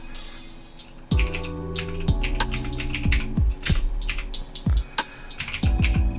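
Typing on a computer keyboard while entering the ipconfig /flushdns command in Windows 10, a run of close, crisp key clicks in irregular bursts with heavier strikes on some keys, no talking.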